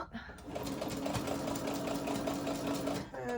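A sewing machine stitches a curved upholstery fabric seam on a cover for an Ikea armchair, giving a continuous, fast mechanical whirring hum of about three seconds that starts and stops abruptly.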